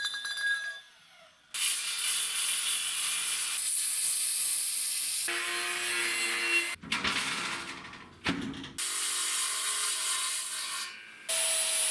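A rasp-like drill bit widens two drilled holes into a slot during a diesel jet boat build, making repeated bursts of close, gritty grinding and scraping separated by brief pauses.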